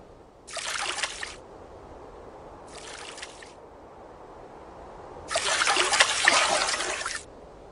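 Grassland stream water in a pastoral highland area trickles and splashes in three separate bursts, two short and one longer, near and fairly loud against a quiet background.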